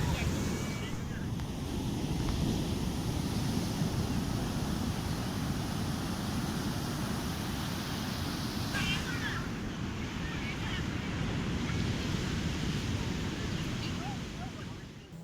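Ocean surf and strong wind at Blue Flag Beach in Puri, Odisha, make a continuous loud rushing roar with wind buffeting the microphone throughout.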